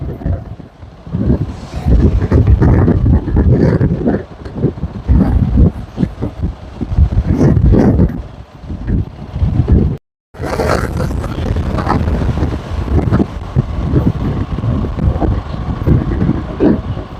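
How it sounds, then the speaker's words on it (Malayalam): Heavy wind at Mekkarai Dam, Sengottai, during the rainy season buffeting the microphone, a loud continuous roaring rumble with gusty surges, cutting out briefly partway through before resuming. "ആദ്യമായിട്ടാണ് ഈ മഴ സമയത്ത് വരുന്നത് നല്ല കാറ്റാണ്"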